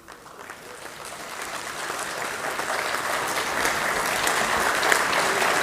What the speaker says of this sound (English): with a huge round of applause, let us welcome Dr. Sharad Kumar Jain